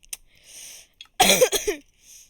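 A single sharp cough bursts out near the mic, set between a few quieter vocal noises and breaths, with stretches of near-silence before and after.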